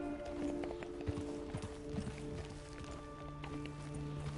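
Hooves of a horse in Red Dead Redemption 2 clip-clop steadily at a slow gait over a continuous game ambience, with scattered soft knocks.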